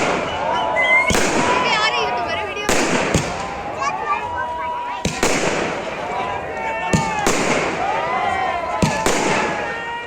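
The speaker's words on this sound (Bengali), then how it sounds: "চলুন দেখি আতশবাজি।" Fireworks burst at a reunion meet in Sriniketan, Shantiniketan, with several sharp loud cracks at irregular intervals, each followed by crackling and fizzing, while people talk and shout in the background.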